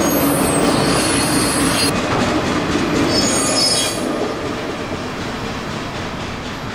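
A freight train with an AC4400CW locomotive and loaded auto rack cars rolls past close by, wheels rumbling and squealing continuously and fading slightly toward the end.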